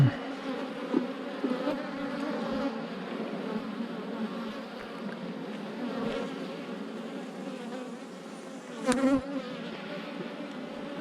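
Honey bees buzzing around an open hive on a stormy spring day, a steady close drone of many wings with individual bees zipping past the microphone, one louder pass near the end.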